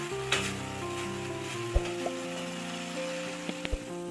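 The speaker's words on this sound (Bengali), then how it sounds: "সব কিছুকে এবার ভালোভাবে কষিয়ে নেব" Spices and ingredients sautéing in oil for Bengali aloo dum, a steady close sizzle and frying hiss with occasional stirring clinks and knocks from the pan.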